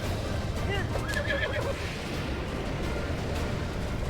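Horse neighing in Breath of the Wild, a whinny with wavering harmonic calls heard over steady game background noise and low rumbling, fairly close, with no talking.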